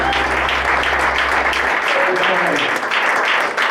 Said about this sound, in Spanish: Un aplauso al Señor en esta mañana.